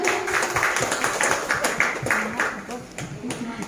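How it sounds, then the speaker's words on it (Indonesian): An audience claps together through a short burst of dense, continuous applause at an indoor gathering, with a voice faintly audible underneath. "Oke, tepuk tangan untuk kita semua."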